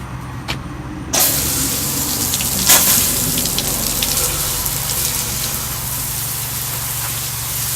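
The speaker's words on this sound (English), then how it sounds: "So now I'm just going to spray it off." A hose sprays water off a truck in a continuous close hiss with a surge at the start, steady and loud with no talking.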